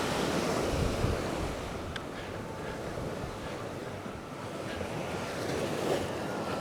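Ocean waves break on a sand beach fringed with coral at a Cayo Santa Maria resort, a steady broad wash of surf with gusting wind noise across the microphone.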